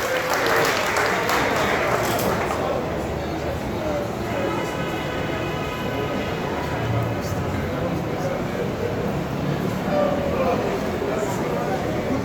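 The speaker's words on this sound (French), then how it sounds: "le tout nous applaudit bien ici pour l'initiative ça" Audience applause at a young talents evening, a dense sustained patter of clapping running throughout with voices mixed in beneath it.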